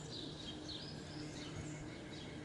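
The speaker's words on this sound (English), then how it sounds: "You can hear the toads in the background." Tree frogs calling faintly in the distance outdoors, a soft continuous chirping chorus under a steady background hiss, with no speech.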